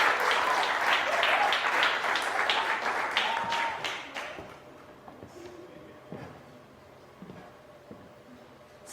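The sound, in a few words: audience applause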